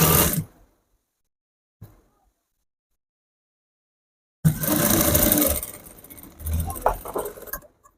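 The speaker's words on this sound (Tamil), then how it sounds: "ஓகே, மேல் தையல் போடுறோம்." Sewing machine top-stitching the collar of a collar-style blouse jacket, one short burst followed by a longer continuous run of stitching with slight speed changes, close and fairly loud.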